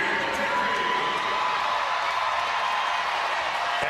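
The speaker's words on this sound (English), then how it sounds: "And the crowd cheers as Ledecky takes a spot she has seen so ofte" A dense arena crowd at the 2021 U.S. Olympic Trials swimming, before the women's 400m freestyle final, cheers and whoops continuously in a loud, sustained roar.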